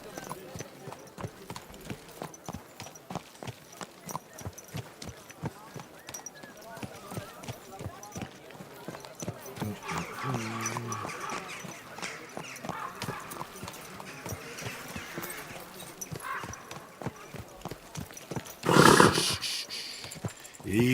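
Horse hooves gallop in Kingdom Come Deliverance II with a fast, steady clip-clop throughout, and a brief loud snort or whinny near the end. Faint voices sit underneath.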